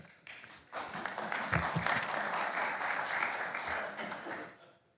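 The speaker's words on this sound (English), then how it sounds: "I'm okay if you applaud when you like what we do" Audience applause at a Myrtle Beach city council meeting, a steady wash of many hands clapping indoors that rises quickly, holds for several seconds and fades out at the end.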